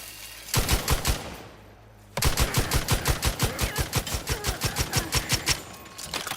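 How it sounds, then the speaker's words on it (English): Rapid automatic gunfire in a war zone in the video game The Outer Worlds 2, two bursts of loud, evenly spaced shots separated by a brief pause, the second burst long and steady. "Literally in the middle of a freaking war zone. I can't see who I'm shooting at all."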